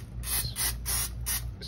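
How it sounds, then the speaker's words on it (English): Pam non-stick cooking spray hisses onto a skillet on low-medium heat in four short, sharp aerosol bursts, close and loud, with no speech. "I'm gonna use this Pam spray, non-stick spray."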